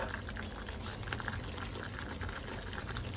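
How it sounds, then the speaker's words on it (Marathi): Ground masala for a Malvani shark (mori) fish curry boils in the pan with a steady, close bubbling and sputtering that runs unbroken throughout, with no voices. "आता वाटपाला चांगला कड आलेला आहे."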